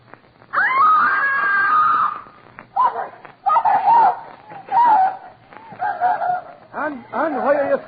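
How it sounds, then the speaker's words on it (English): A woman screams in a radio drama, a long sustained cry followed by shorter frantic shouts and calls. "why are you screaming?"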